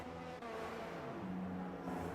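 A race car in a sim racing video game drones steadily with an even engine hum and a slight pitch shift partway through, moderately loud and with no talk over it.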